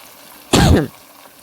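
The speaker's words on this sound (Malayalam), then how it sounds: "കുറച്ച് ചുമ ഒരു ചുമയെങ്കിലും എല്ലാവർക്കും" One short, sharp cough or throat clear bursts out close to the microphone, then quiet returns.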